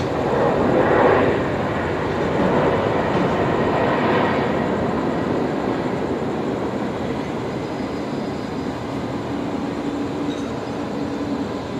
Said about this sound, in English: That's Qantas Link 1967, the diverted Embraer coming back in after a round trip to Newcastle without landing.